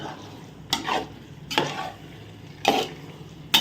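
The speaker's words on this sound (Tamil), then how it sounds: "மிக்ஸ் பண்ணுங்க மசாலாவில் எல்லாம் சிக்கனு தயிர் எல்லாமே" Chicken is stirred with masala and curd in a pot for Ambur chicken biryani: four separate scraping, squelching stirring strokes, close and fairly loud over a low background hiss.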